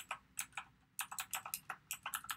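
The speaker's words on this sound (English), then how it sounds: "to type on these, I just click on the symbol and start typing" Typing on a computer keyboard produces quick bursts of crisp clicky keystrokes in uneven rhythm, close and clear with a brief pause near the middle, no talking.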